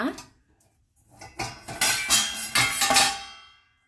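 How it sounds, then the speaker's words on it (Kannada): Warm, freshly washed dishes and utensils clink and clatter as a dishwasher is opened after being switched off: a faint knock, then a run of loud metallic rattles and clanks that fades out at the end. "ಡಿಶ್ ವಾಷರ್ ಆಫ್ ಮಾಡಿಬಿಟ್ಟು ಈಗ ಓಪನ್ ಮಾಡ್ತಾ ಇದ್ದೀನಿ"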